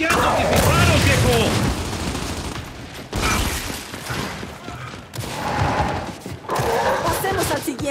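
Gunfire in the video game Gears 5, with bursts of rapid shots and booming impacts in several distinct volleys, loud and close, while people talk excitedly over the action.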